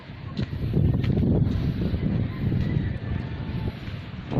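Wind gusting across the open rooftop of a grotto church, a steady broadband roar buffeting the microphone for several seconds, loud and close, with no speech over it.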